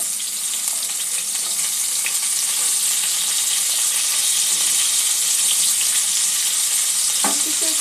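Spring onion greens fry in a pan for sweet and sour chicken, producing a loud, dense, continuous sizzle that barely varies, with one brief knock of a utensil near the end.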